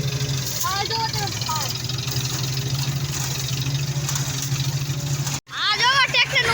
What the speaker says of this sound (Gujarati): આ જો ટ્રેક્ટર નું મોટર ઊંચું થઈ ગયું